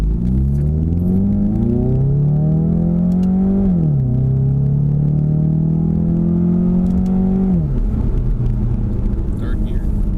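A Ford Mustang EcoBoost with an automatic in sport mode accelerates hard as heard from inside the cabin. The engine drone rises steadily and drops at each upshift, with two clear gear changes and a loud, continuous interior rumble.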